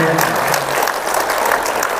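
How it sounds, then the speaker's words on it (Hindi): A large audience at a meditation gathering applauds loudly with dense, sustained clapping. A faint voice lingers at the start. "जोर से तालियां, जोर से"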